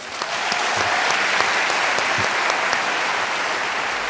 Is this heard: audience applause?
yes